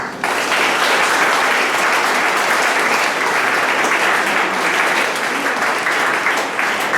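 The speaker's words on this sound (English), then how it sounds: "for the kids to give your parents a round of applause, please" A large audience at a track and field awards event applauds, a dense, loud, steady clapping that rises quickly and holds for several seconds with no talking.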